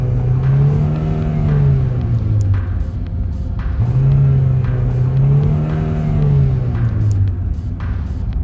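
A turbocharged Honda Civic with the catalytic converter removed and the muffler still in line revs up loudly, its exhaust note rising and falling in two deep, throaty swells over a constant rumble.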